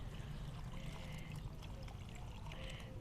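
Liquid fertilizer water is poured around a hibiscus plant, a faint, continuous trickling pour heard close up.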